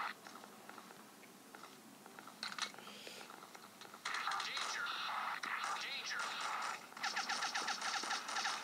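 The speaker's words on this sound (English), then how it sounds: "Oh, what gun has he got? It sounds really cool." Video game gunfire in bursts of rapid, crackling automatic shots that grow denser toward the end, mixed with faint whispering and keyboard tapping.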